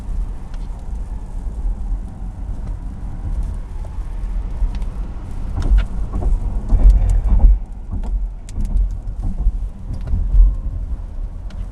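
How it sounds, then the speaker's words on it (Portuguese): A Porsche Taycan Cross Turismo electric wagon cruises with no engine note, leaving a steady rumble of tyres on the road and wind noise, with low thumps from bumps swelling in the middle. "você escuta muito mais os pneus, os sons do ambiente"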